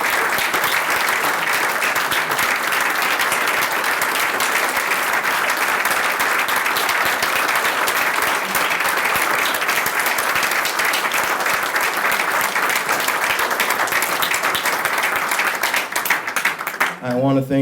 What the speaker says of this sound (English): thank you, everybody, for that applause.